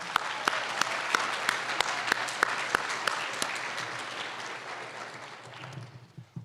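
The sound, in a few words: audience applause for families at a graduation convocation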